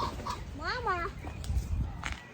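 A duck calls once in a short rising-falling series of cries, somewhat distant, over a busy outdoor background with people talking nearby.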